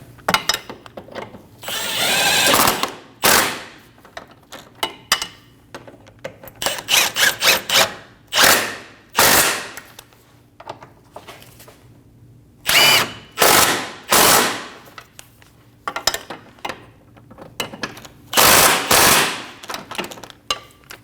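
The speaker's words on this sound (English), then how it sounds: "Go around and snug down the 3 subframe bolts on each side" Power tool snugging down the subframe bolts on a Volkswagen Passat: loud, close bursts of whirring and rattling impact, each lasting a second or two, separated by short quiet gaps.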